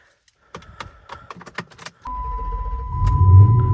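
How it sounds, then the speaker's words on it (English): A Dodge Charger's engine cranks and starts up close after a brief jangle of keys, then settles into a steady, loud idle rumble with a faint whine. "and start the car."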